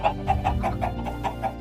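Chickens in Minecraft cluck in a quick, evenly spaced run of short, nasal notes, close and fairly loud over a low background.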